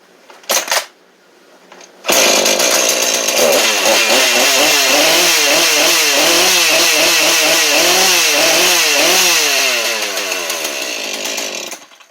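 A Husqvarna 435/440 chainsaw under repair for its oil pump gear starts after brief pull-cord tugs, then roars loudly and close with repeated revving surges before settling and dying away near the end.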